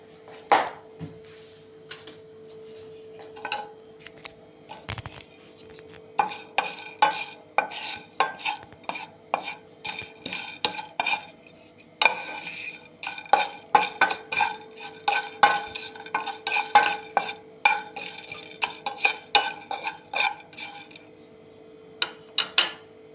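Cardamom pods and cloves being dry roasted in a pan, with a spoon scraping and tapping in quick irregular bursts, close and fairly quiet over a faint steady hum, with no talking.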